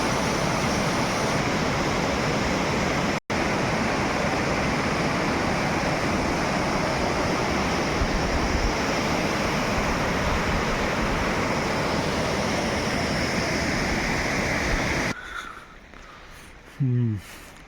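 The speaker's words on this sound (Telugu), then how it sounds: "ఇది కండా వాటర్ ఫాల్స్ లాచంగ్ నుంచి అనమాట." Kanda waterfall of snow meltwater at Lachung, Sikkim roars as a steady, dense broadband rush close by, with one brief dropout; at the end the roar drops away and a voice is heard briefly.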